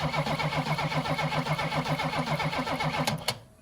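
Engine cranking on a 1979 Opel Monza Series 1 barn find during a cylinder compression test: a steady, rapid, rhythmic churning of the starter turning the engine over, loud and close, cutting off abruptly near the end.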